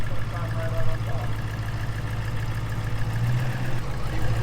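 An off-road truck engine idling, a steady low rumble with a faint rhythmic knock, close and continuous throughout.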